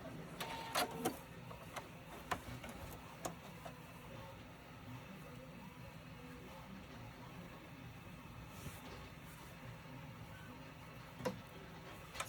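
A sewing machine backstitching on a drawstring backpack runs faintly with a steady mechanical clatter, interrupted by a few sharper ticks.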